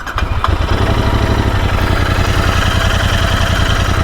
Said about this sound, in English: engine sounds totally in sync, especially after the valve setting